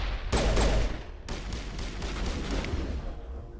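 A grenade blast booms loudly in the Mass Effect video game, followed by a burst of gunfire and lingering rumble as the battle continues.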